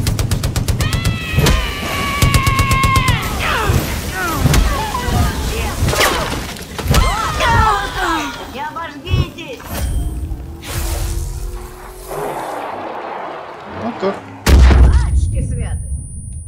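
Explosions and gunfire from the Far Cry New Dawn video game, with sharp bursts and crashes scattered throughout, mixed with voices and game sounds, and one loud blast near the end.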